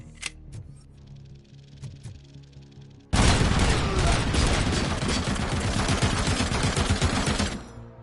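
A heavy machine gun firing in Robocop: Rogue City, a few scattered shots and clicks followed by a loud, sustained stream of rapid automatic fire that runs for several seconds and then cuts off abruptly.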